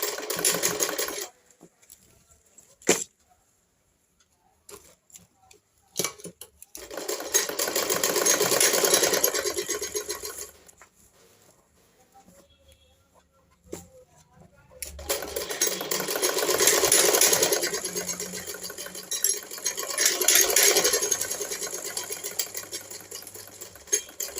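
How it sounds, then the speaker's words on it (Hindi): A sewing machine stitches a blouse lining in several bursts of steady, rapid running, separated by quiet pauses with small handling clicks; no talking. "इसको स्टिचिंग करना शुरू किया"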